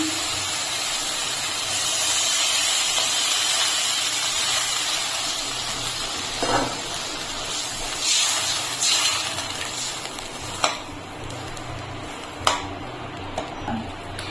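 Water poured onto spices fried in a pan for a vegetarian green-banana curry, giving a steady broadband hiss and sizzle with a few sharp clinks and splashes near the end.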